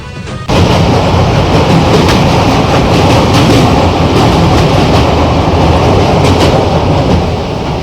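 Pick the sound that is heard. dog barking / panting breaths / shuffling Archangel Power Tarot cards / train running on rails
train running on rails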